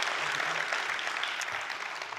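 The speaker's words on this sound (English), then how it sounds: "Can we give Dr. Williams a big round of applause?" An audience at an evening event applauds steadily, a dense, moderately faint wash of clapping that carries on evenly for the whole short stretch.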